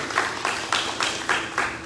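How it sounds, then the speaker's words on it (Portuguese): A church congregation at a Sunday morning service claps in a rhythmic beat, roughly four or five evenly spaced bursts of applause over a short stretch. "Para terminar, salva de palmas oficial agora."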